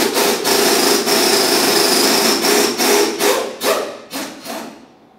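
Metallic wrenching on the jam nut of an inner tie rod on a 2001-2005 Ford Explorer Sport Trac, a 22mm wrench working it loose in a string of close, scraping ratchet-like strokes that thin out toward the end.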